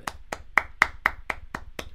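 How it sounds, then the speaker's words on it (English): One person clapping hands alone, eight sharp, evenly spaced claps in a brisk steady rhythm, close and fairly loud with nothing else around them. "They can't hear me applaud."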